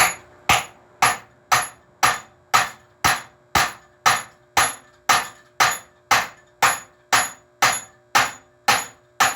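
A hammer taps a wheel bearing race into the front hub of a 2WD Hardbody, about nineteen sharp, evenly spaced metallic strikes, close and loud, each ringing briefly before the next, with no talking.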